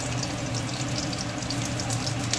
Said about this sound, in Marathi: चविष्ट लागण्याकरता आपल्याला असं भाजून घ्यायचं आहे